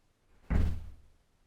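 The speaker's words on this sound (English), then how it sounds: "And the door will close." A single dull thud of a door closing under an automatic door closer, close by, with a short rumbling decay and near-silence around it.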